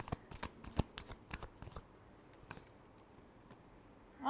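A deck of tarot cards is shuffled, giving soft, quick riffling bursts close by in the first half before it falls almost silent, with a faint rustle at the very end.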